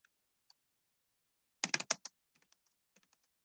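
Keys on a computer keyboard are pressed in a quiet room, a few isolated taps and then a quick, close burst of clicks, followed by scattered lighter keystrokes.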